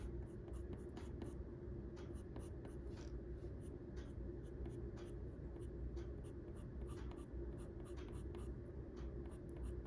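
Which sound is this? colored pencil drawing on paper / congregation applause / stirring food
colored pencil drawing on paper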